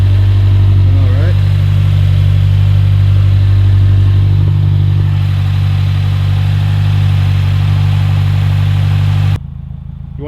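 Subaru WRX with an aftermarket exhaust idling up close, a loud, steady low rumble through the pipes that keeps going, with a small blip partway through, before cutting off near the end.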